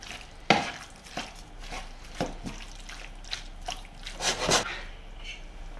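Tomato paste gets stirred into shredded chicken enchilada filling in a pan over lowered heat. A spoon scrapes and taps against the pan in uneven strokes, with soft wet squishes between them, close and fairly quiet.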